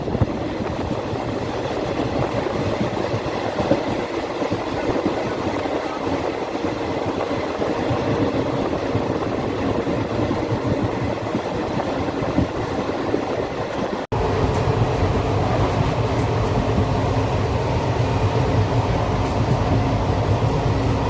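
Inside a sleeper-class coach of the 25-coach Amaravati Express from Kolkata to Goa on the Konkan Railway, a steady rumble and clatter runs on throughout. Partway through it shifts to a louder, fuller roar, and no voices are heard.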